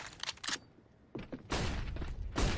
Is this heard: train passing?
no